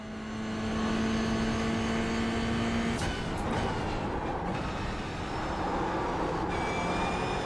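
A Porsche GT3 race car in iRacing overtakes on a wet track, a loud sustained engine roar whose pitch shifts midway as it passes, with no talk.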